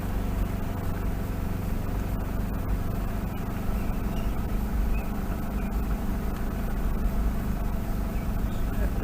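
A car rolling onto a river ferry on the Murray River in South Australia, with steady low engine and road rumble throughout, close and continuous, no distinct voices standing out.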